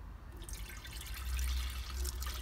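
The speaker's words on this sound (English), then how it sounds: "We're gonna dump it in and see if we got any leaks." Water from a small jug is dumped into a homemade woodgas mixer box for a V10 Ram to check for leaks, a brief close splashing and trickling pour growing louder midway.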